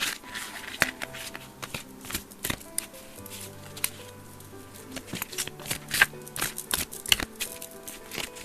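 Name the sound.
shuffling tarot and oracle cards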